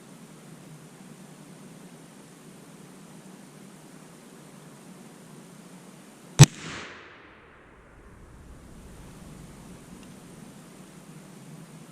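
A Thompson Center Seneca 36 black powder rifle fires a single sharp, loud shot outdoors, followed by a brief rumbling echo that fades into steady background hiss, with no talking.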